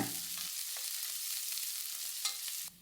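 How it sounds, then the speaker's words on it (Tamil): Chopped garlic and ginger sauté in a hot pan for a sprouted moong curry, a steady close sizzle with light stirring scrapes, and no voices. "போட்டுட்டு எல்லாத்தையும் ஒரு வாட்டி வதக்கி விட்டுருங்க"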